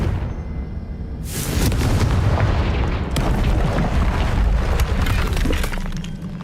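A Confringo fire spell blasts in the Hogwarts Legacy video game: after a short quiet lead-in, one loud, close explosion bursts out, followed by a dense, sustained rumble and crackling debris that fades slowly.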